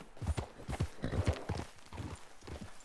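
Horse hooves clip-clopping in a steady walking rhythm, close and fairly loud, several hoof strikes with a faint voice now and then.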